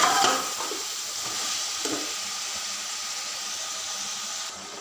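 Spices and red chili fry in a pan for potato chicken biryani, a soft steady sizzle with a brief louder burst at the start and faint stirring scrapes, close and alone.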